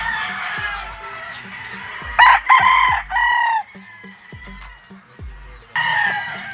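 Gamefowl roosters on a game farm crow loudly several times in close succession, with quieter clucks and distant crows between the calls and a faint voice in the background.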